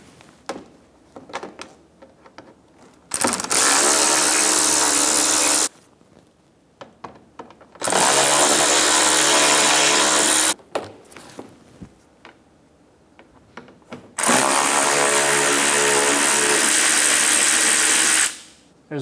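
Three long bursts of a power driver backing out T20 screws from the inner fender liner of a 2012-2020 Chevrolet Sonic, each a steady loud whir of a few seconds, separated by quieter handling noises.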